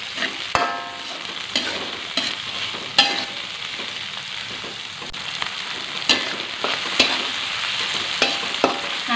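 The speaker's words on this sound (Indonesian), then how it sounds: "Sekarang kita tumis lagi." Red, curly and bird's eye chilies are stir-fried in a pan, a strong steady sizzle punctuated by regular sharp spatula scrapes and knocks, close and alone without speech.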